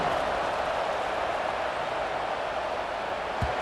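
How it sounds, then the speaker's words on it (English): A stadium crowd in a College Football 26 game match-up between Vanderbilt and Kentucky produces a dense, even wash of buzzing noise, steady throughout, with no clear voices standing out. "this crowd is buzzing after that last score"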